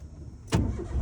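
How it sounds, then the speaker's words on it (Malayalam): A car engine is started during a driving lesson: a quiet cabin, then a sudden cranking burst that settles into a steady low idle rumble. "ഇനി വണ്ടി സ്റ്റാർട്ട് ചെയ്യാണ്"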